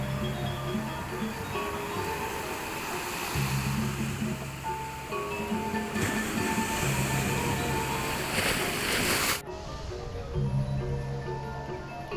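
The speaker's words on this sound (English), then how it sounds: "how quiet this beach. Beautiful beach, but no people" Waves wash onto a quiet, empty stretch of Dreamland Beach in Bali, a continuous close surf roar with gusts of wind buffeting the microphone.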